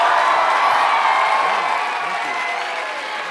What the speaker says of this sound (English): If you would like to vote as the winner of this bout, Ms. Torrence, arguing in favor of land, please applaud.